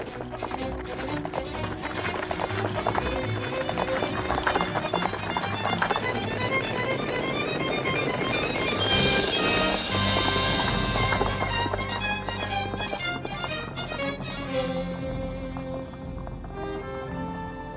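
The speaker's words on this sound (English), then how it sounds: "They're just trying to outrun and dragging these pack horses." Many hooves pound rapidly in a loud, continuous gallop of riders and pack horses, with horses snorting and a rush of motion throughout.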